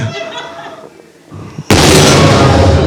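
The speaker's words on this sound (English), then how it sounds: "Certainly not the first time he's heard gunshots." After some muffled commotion, a sudden loud, sharp blast erupts and stays loud, like a close gunshot burst.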